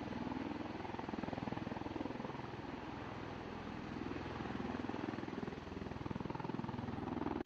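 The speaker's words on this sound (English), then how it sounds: "See the helicopter there?" A helicopter's steady rotor thrum and engine drone, continuous and fairly loud, with a rapid chopping pulse throughout.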